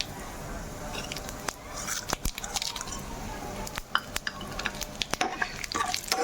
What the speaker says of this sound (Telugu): జీలకర్ర, మినపప్పు, శనగపప్పు ఇవి వేసుకున్నాం కదా, ఇవి చక్కగా వేగనిద్దామండి